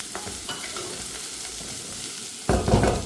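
Peppers fry in oil in a pot with a steady soft sizzle, then a spoon stirs them and sets off a louder scraping burst near the end.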